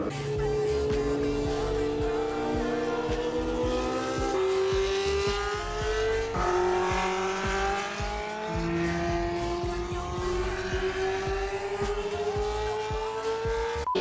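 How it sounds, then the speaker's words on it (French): Historic racing cars roar past at the Spa circuit in Belgium, engines screaming through several rising gear changes in a loud, continuous stream of overlapping passes with no talk. "là maintenant c'est voiture historique, c'est-à-dire vous avez quelques plans"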